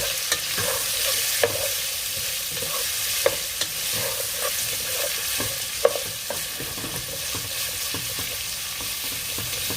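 Longaniza sausage stirred into rice frying in a pot for Dominican locrio, a strong steady sizzle with regular spoon scrapes and knocks against the pot, close and loud, no speech.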